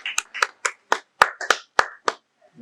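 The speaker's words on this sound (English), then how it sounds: "Can we clap for him?" Single person's hand claps, about ten sharp, evenly spaced claps in a quiet room at a media training event for reporters and editors, close and crisp with silence between them.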